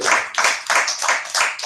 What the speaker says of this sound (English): Clap it up for Philly, everybody.